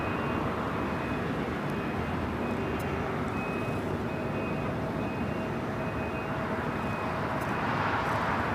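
An ANA airliner turns onto a taxiway at LAX before takeoff, its engines giving a steady, broad roar with a thin high whine, continuous and moderately distant.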